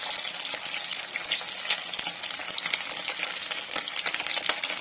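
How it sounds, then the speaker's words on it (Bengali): Pabda fish sizzles and crackles steadily in hot oil, a close, continuous frying hiss with small pops and occasional utensil scrapes. "মাছগুলো এদিকে ভালোভাবে ভাজা হয়ে গেল"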